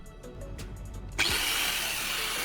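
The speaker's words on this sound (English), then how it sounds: "carefully use an angle grinder to cut along the line I just drew" An angle grinder cuts into the thin metal of a WD-40 can clamped in a vise, a steady broadband whine starting abruptly after a second of quieter bench noise and holding loud to the end.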